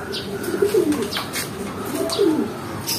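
Pigeons in a loft cooing close by, with two clear rolling coos repeated over a soft background of shuffling and faint chirps.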